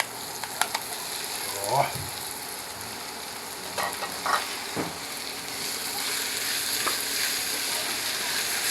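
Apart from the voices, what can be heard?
sautéing gising gising until brown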